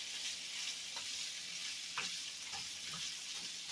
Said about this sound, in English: all I want to do is to saute my sausage, my potatoes, and my onions